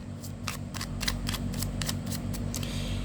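Tarot cards being shuffled, a quick series of crisp riffling snaps in a steady rhythm, close by, over a low constant hum.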